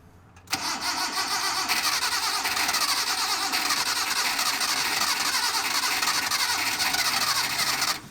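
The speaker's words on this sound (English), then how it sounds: "Put oil in it, set this carburetor on it, and it literally turns on idles like a baby." Small engine with a freshly fitted carburetor, run after the old fuel was drained and oil added, catches at about half a second and settles into a steady, loud idle. It holds even and close for the remaining seven seconds, then cuts off abruptly.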